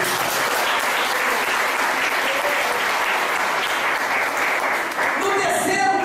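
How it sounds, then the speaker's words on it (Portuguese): A church congregation at a weekly worship meeting breaks into sustained, dense applause that holds steady and loud for about six seconds, with a voice faintly rising near the end. "Pode dar uma salva de palmas para Jesus."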